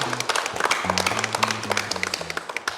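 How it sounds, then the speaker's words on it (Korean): Scattered clapping from a small group at a town hall meeting rises and trails off while someone speaks over it. "우리 모두를 응원하는 마음으로 박수 한번 보낼까요"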